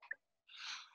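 A single sharp sneeze bursts out at close range, with a brief sniff or intake just before it and a breathy, noisy release trailing off over about half a second.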